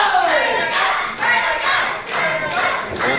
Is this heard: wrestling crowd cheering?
yes